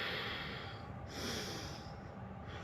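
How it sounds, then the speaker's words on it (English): Loud, steady ujjayi breathing during a vinyasa yoga practice, a continuous hissing breath close to the microphone with slow swells across the stretch and no talking. "It's okay for that breath to be loud."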